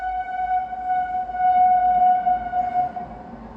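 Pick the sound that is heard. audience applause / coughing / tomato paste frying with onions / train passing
train passing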